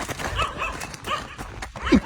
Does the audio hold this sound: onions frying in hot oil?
no